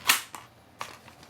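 Sharp mechanical clicks from an AR-15 pistol magazine, one loud snap followed by two softer clicks spaced across about a second, close up with no talking.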